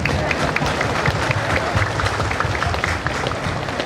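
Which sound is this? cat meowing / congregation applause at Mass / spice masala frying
congregation applause at Mass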